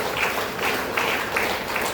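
An audience claps at an event in Dharwad honouring social worker Shivananda Lolenavar, with steady, moderately loud applause pulsing in an even rhythm for a couple of seconds.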